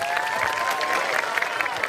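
Applause from a sermon audience fills the space, a steady wash of clapping and crowd noise lasting a couple of seconds, with a faint voice or tone running underneath.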